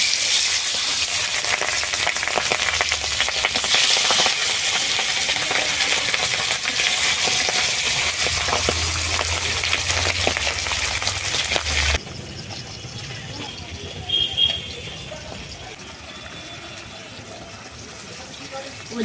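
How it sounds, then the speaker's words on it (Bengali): Pabda fish frying in hot oil in a wok, giving a loud, steady broadband sizzle for about twelve seconds before dropping to a softer, quieter crackle with a few brief clinks. "তেল গরম হয়ে গেছে, এবারে মাছগুলো ভেজে নেব"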